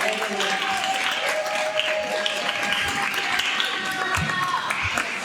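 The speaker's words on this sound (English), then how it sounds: "So give them a round of applause for all of them." Audience applause at a CalCare town hall in Los Angeles, a sustained, fairly loud patter of many hands clapping from start to finish, with some voices and cheers in the mix.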